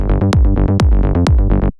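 An electronic bassline with bass jumps on the root and variant notes. A short, loud, rhythmic phrase of pulsing low notes runs under sharp percussive hits, then stops abruptly.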